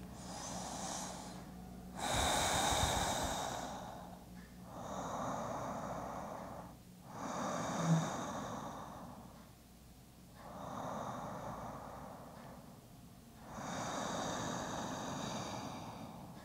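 Slow, deep breathing during a yoga forward fold: long drawn inhales and exhales alternate in a calm rhythm over several cycles, close and soft with no talking.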